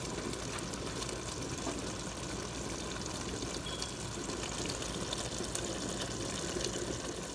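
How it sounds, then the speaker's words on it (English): Water pours steadily into a pot of Ethiopian and Eritrean chicken stew (doro wot) partway through cooking, a continuous close splashing and trickling that runs without break and with no talk. "now we'll add water"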